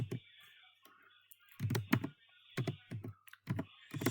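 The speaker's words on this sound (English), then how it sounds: "then we will write Riya" Typing on a computer keyboard while entering data in a MySQL tutorial, heard as irregular bursts of close, crisp key clicks separated by short pauses, with no talking.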